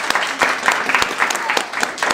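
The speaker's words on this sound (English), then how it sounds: "let's give them a round of applause" Children in a music class clap together in a round of applause, loosely rhythmic claps in quick succession, close and fairly loud, with no talk over it.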